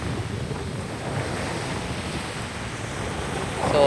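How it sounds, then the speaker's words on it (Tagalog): Wind buffeting a microphone at the beach, a steady broadband roar with surf-like wash underneath, fairly loud and continuous, swelling slightly toward the end. "Basta hangin."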